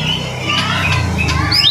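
A white-rumped shama calls nearby with harsh squawks and a few sharp, whistled notes, loud and close over a low background hum.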